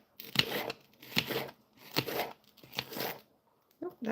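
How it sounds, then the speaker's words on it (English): A knife slices through an onion on a cutting board in about five crisp, evenly spaced strokes, heard up close with short pauses between cuts. "I'll do a little bit more slices of onions"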